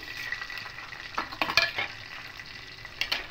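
Whole fennel, cumin, cardamom, cloves and cinnamon sizzle and crackle in hot oil, a soft continuous fry broken by sharp pops and a few stirring clinks in a close kitchen.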